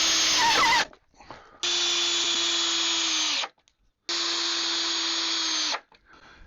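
A power drill drives screws into 2x4 boards for attic shelving: a short whir, then two long, steady, loud high-pitched runs, each separated by a brief silent pause.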